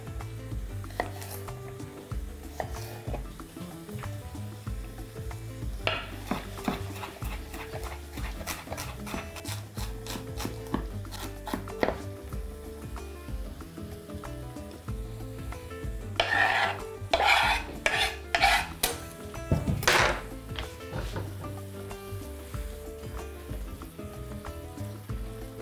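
Onion and celery frying in a pan with steady low sizzling, scraped and stirred with a utensil in repeated rubbing strokes, plus louder clattering scrapes near the end, with no talk.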